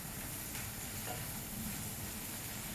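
Water hits sautéing spinach in a hot pan, giving a steady, loud sizzle with hissing steam throughout and no voices.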